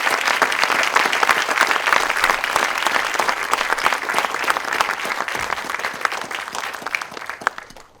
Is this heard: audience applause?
yes